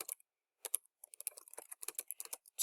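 Typing on a computer keyboard: quick, close clusters of light key clicks in uneven bursts separated by short pauses, with no talking.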